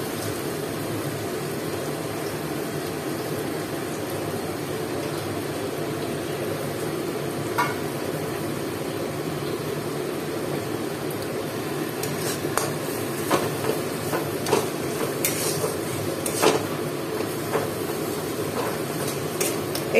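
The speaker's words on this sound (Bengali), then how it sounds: "মশলাটা মোটামুটি কষানো হয়ে গেছে, এরপর আমি একটু নুন দিয়ে দেবো" Masala spice paste being sautéed for chicken biryani, a soft steady sizzle with spoon scrapes and pan knocks growing more frequent toward the end.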